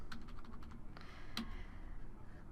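Short run of light keystrokes on a computer keyboard, a handful of quick close taps over a low hum of room noise, with no one speaking.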